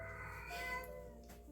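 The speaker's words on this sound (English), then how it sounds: "Don't mind the cats." Cats meow faintly in the background of an indoor room, a drawn-out, wavering cry over steady low hum.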